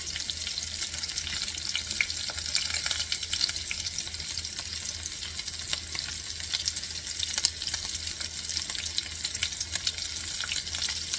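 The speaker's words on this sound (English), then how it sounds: "And you can see the fat is cooking. You see how fast it's cooking it away." Fat from a duck breast sizzles hard in a pan, a dense, steady crackling hiss with fine spitting pops throughout, close and alone with no voices.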